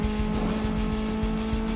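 A 2000 Honda Civic Type R drifts in the Need for Speed video game, a sustained engine drone with tire squeal running continuously and loud, with no talk over it.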